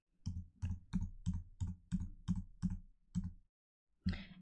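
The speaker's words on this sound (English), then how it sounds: "Just use Control or Command D on the keyboard." Computer keys are tapped in a steady run of about ten crisp, close clicks, then a brief pause and a final softer click, with no talk over them.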